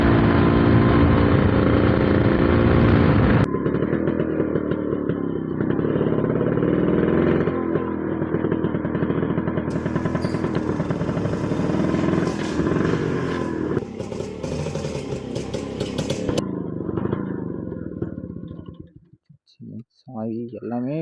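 Yamaha RX100 motorcycle engine running loud and steady, with a tonal drone that shifts pitch a few times, then cuts out near the end with rattling.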